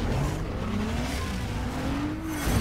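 A tuned car races in Need for Speed Most Wanted (2005), its engine a close, steady drone whose pitch climbs slowly and then dips slightly, with no voices over it.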